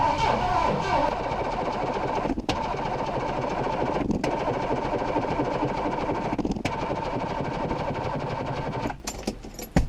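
A 1977 Ford Thunderbird with a 2150 carburetor, unstarted for months and on a weak uncharged battery, cranks in steady sustained bursts broken by three or four short pauses, loud and close throughout.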